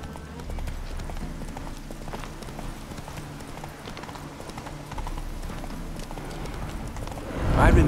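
Horse hooves trot in a steady clip-clop rhythm in the video game The Witcher 3: Hearts of Stone, close and clear, ending with a sudden louder burst of noise.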